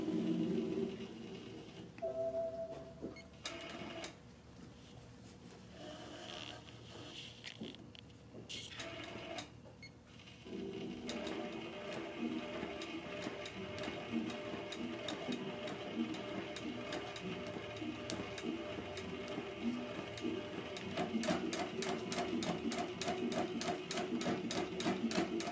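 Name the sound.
Innova longarm quilting machine embroidering applique stitch-down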